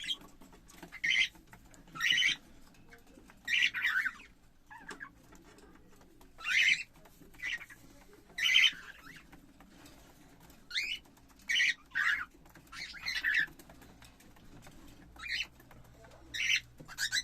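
A female cockatiel calls from inside a nest box on a home balcony, giving short, bright chirping bursts at irregular intervals, fairly close, over a faint low hum.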